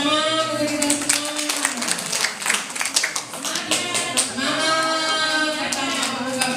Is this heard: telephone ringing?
no